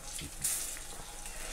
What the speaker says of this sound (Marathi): आणि छान असं तळून आपल्याला घ्यायचं आहे, आलटून पलटून